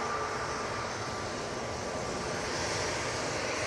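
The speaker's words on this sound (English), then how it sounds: "on final now, we do have the PC-12" A Pilatus PC-12 turboprop on final approach at Manchester Airport gives a steady, continuous engine roar that holds at an even level throughout, with no voices over it.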